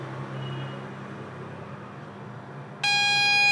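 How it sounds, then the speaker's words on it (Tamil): An NE555 variable timer circuit switches on a steady, piercing electronic tone near the end, rising sharply out of a low background hum. "3 விதமான டோனை நமக்கு வேணும்னா அட்ஜஸ்ட் பண்ணிக்கலாம்."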